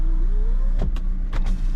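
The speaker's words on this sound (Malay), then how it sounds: "power window semua okey lah, tak ada masalah apa" Power windows on a 2020 Proton Persona 1.6 Executive automatic facelift run with a steady motor whine that rises in pitch, followed by a couple of short thumps as the glass stops, heard up close inside the car.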